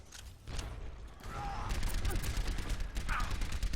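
Overwatch match gunfire, with a steady spray of rapid shots and mechanical clatter building up and sitting under a commentator's continuous talk.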